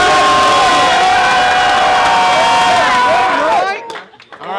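Crowd at a rap battle cheering and whooping loudly, a dense roar of shouting voices that drops off abruptly near the end.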